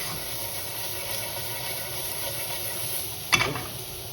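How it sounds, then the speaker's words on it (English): Onions and home fries are mixed with a spatula in a pan over low heat, with a steady soft sizzle and one sharp scrape near the end. "Mix it with the spatula"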